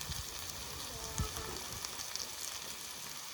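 Onions sauté in hot oil, producing a soft, continuous crackling sizzle that stays faint and even, with a few small pops and no talking.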